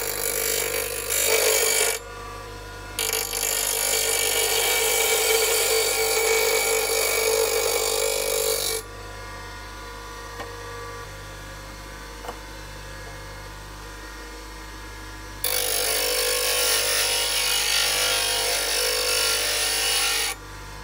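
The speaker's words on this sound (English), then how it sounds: "Okay, so a little test of the grinder." An Axminster Trade AT200HDG heavy-duty bench grinder running, a steady loud motor whine that drops to a lower hum partway through, then rises back to full intensity near the end.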